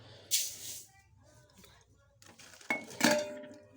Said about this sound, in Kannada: ಒಂದು ಜಾಂಬು ಸಕ್ಕರೆ ಹಾಕ್ತೀನಿ ನೋಡ್ರಿ